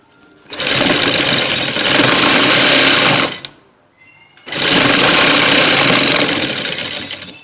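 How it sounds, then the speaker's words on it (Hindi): An electric sewing machine stitching fabric strips, running loud and close in two continuous runs of about three seconds each, separated by a short pause. "अब इस तरीके से दूसरी को रख के सिलाई लगाएंगे।"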